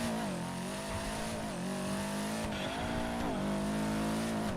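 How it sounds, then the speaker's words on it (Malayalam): Video game car engine drones steadily with tire noise, a continuous loud synthetic motor tone that rises and dips in pitch as the vehicle drives. "വണ്ടിക്ക് എന്ത് സൗണ്ടാണ് ഇത്?"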